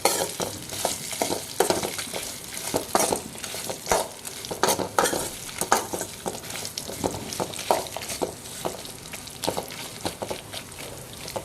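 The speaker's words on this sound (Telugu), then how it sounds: "ఇప్పుడు ఈ మామిడికాయ ముక్కలు కూడా దీంట్లో వేసేద్దాం. ఇప్పుడు ఒకసారి మిక్స్ చేసుకుందామండి." Raw mango pieces for mango pachadi are stirred in a hot pan, producing repeated close scraping strokes over a soft, continuous sizzle.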